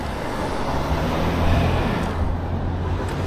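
Steady roadway traffic with cars rolling past close by, a continuous low engine and tire rumble that swells slightly mid-way, with no talking.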